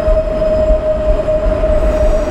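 A train pulls away from a station in Wrocław with a loud, continuous rumble, a steady high-pitched squeal or whine running throughout.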